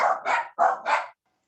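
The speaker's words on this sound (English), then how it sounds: "My dogs do like to bark right at the wrong time." Several dogs bark in four quick, loud, close bursts over about a second, then go quiet.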